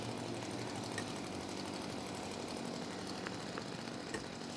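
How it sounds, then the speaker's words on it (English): A leaf blower runs on a live game show obstacle course, a steady droning engine hum held at an even level throughout, moderately loud with faint background noise. "Using a leaf blower, you must blow Bert's hairpiece over the harbour bridge"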